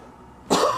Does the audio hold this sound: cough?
yes